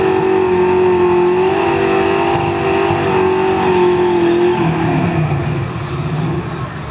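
A race car engine accelerates hard and alone at close range, holding a steady high drone before the pitch drops near the end as a gear shift comes in.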